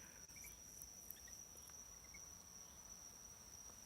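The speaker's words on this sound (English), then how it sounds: "I have a frog next to me." A small frog calling in Ecuador, a faint steady high-pitched trill that carries on without a break through a quiet outdoor night, with no talking.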